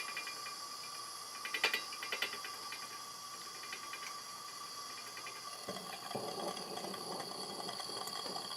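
A lit AGM 3016 pressure lantern gives off a steady, even hiss, faint and constant, with a few small clicks early on and no voices.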